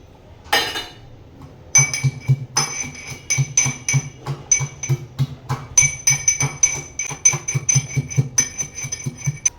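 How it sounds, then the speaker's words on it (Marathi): Garlic and chilli are pounded in a stone mortar and pestle, a fast series of close, sharp, ringing strikes that repeats in an uneven rhythm after a single opening knock. "आता हे जे वाटण आहे ना, मी खलबत्त्यामध्ये वाटून घेते"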